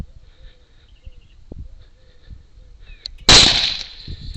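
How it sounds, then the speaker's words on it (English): A single sharp gunshot fired between fence wires at feral hog piglets cracks out loud and close, then rings and decays over a second or so against quiet outdoor background with faint insects. "I'm going to shoot between the wires of the fence"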